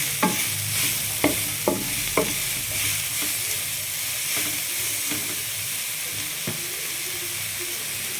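Noodles being stirred and fried in a pan for a hot, spicy Chinese-style dish give a steady close sizzle, with several sharp utensil scrapes and knocks early on, then softer stirring.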